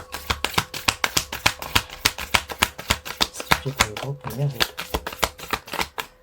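Playing cards shuffled for a card reading, a quick run of crisp riffling snaps in steady rhythm, close and fairly loud, with a brief low voice murmur partway through.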